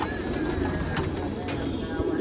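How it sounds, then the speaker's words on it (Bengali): Racing pigeons in a loft give a steady, close murmur of cooing that runs throughout, with someone talking over the birds. "এগুলো হলো আমার আগে রেস করা সিনিয়র কবুতর এগুলো সিনিয়র রেস করা কবুতর"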